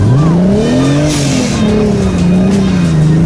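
A drift car's tires squeal loudly and continuously for several seconds, a wavering shriek rising and falling over a steady engine roar, with no talking.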